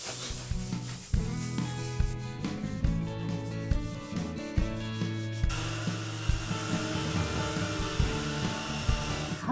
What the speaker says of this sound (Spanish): Lo que vamos a hacer ahora con un taco de lija, con un poco de marcha en el brazo,